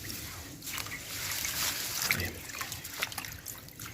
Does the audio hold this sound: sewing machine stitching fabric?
no